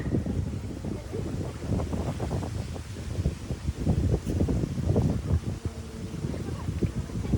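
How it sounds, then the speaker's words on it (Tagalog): Gusty, cool wind blows hard against the microphone on the Mandai Boardwalk in Singapore in uneven bursts and low rumbles, rising and falling throughout with no clear talking. "Ang ganda ng hangin. Ang lamig ng hangin."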